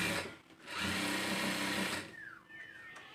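A sewing machine runs up close as it stitches a blouse together at the shoulder, a steady whirring stretch of about a second that then winds down, with faint handling noise afterward.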